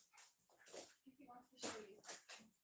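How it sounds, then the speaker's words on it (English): A dog whimpers and yips in short high bursts at close range, mixed with a few soft barks, while people talk and cheer nearby. "Hear my dog."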